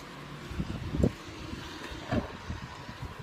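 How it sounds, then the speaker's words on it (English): Wind buffets a microphone in low gusty rumbles, with a couple of stronger bursts over a steady outdoor background. "And it's quite windy just now"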